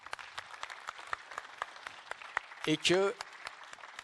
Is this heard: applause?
yes